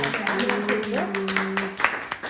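People clapping at a family birthday celebration at home, a quick run of claps beneath a sung or sustained voice and other talk, ending with a few louder separate claps.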